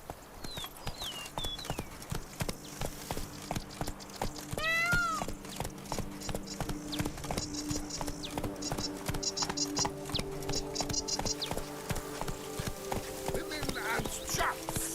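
A horse galloping in The Witcher 3, with hooves in a rapid, steady clip-clop rhythm up close, a brief whinny, and game music and chimes layered underneath.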